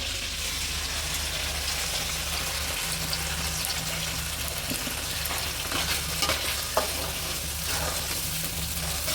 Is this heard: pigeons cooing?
no